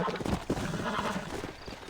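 Horse hooves clip-clop in steady rhythm within the Red Dead Redemption western game, with a horse's whinny mixed in; the hoofbeats are close and fairly loud over a busy game background.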